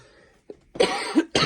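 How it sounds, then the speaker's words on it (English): A person coughs several times in quick, harsh bursts, close to the microphone, with brief pauses between. "I really do apologise for all the coughing"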